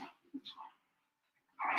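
Dogs whimper and give short breathy yelps close by, a few quick bursts, then a pause before a louder whine at the end.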